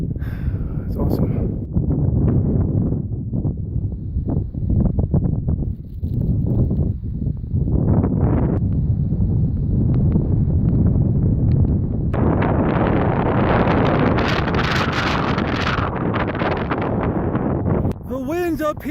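Strong gusting wind buffets the microphone on top of the Colorado sand dunes, a loud continuous low roar rising into harsher hissing gusts, with a voice heard briefly.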